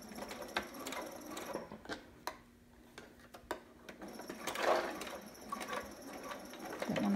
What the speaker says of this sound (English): and I'm gonna straight stitch.